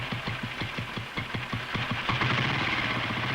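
A motor runs with a steady, rapid thumping knock, close and fairly loud, its beat quickening and smearing into a denser chug toward the end.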